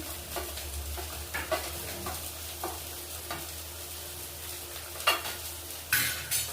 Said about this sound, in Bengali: ভালো করে একটু কষে নেবো। আদা বাটা, রসুন বাটাটা ভেজে নিয়েছি।